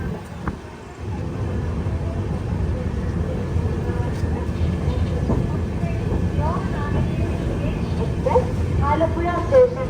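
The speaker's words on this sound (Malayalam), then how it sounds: "ആലപ്പുഴ റെയിൽവേ സ്റ്റേഷനിലേക്ക് ഇതാ നമ്മുടെ ട്രെയിൻ എത്തിക്കൊണ്ടിരിക്കുകയാണ്." An express train arrives at Alappuzha railway station, a low steady rumble of rolling carriages filling the platform, with a person talking nearby over the noise.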